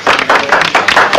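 An audience claps in a brief, loud burst of applause, close by and with no talk over it.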